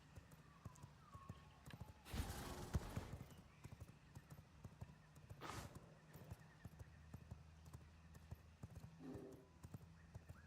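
Horse in the video game V Rising: steady clip-clop of hooves with a couple of loud whinnying neighs, moderately near, with faint background noise.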